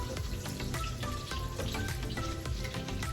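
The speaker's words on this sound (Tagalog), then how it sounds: "Ang piprito ko na lang ay itong hotdog or sausage." Chicken sausage hotdogs frying in a pan, a dense crackling sizzle with scattered sharp pops and spatters throughout, close and steady with no talk.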